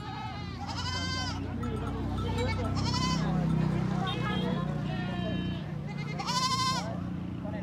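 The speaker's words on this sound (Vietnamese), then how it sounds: "Đấy, đây có cặp dê khoang màu trắng đá màu đen các bạn" A pair of piebald black-and-white mountain goats bleat repeatedly in loud, wavering cries at a livestock market, with people talking over a busy background.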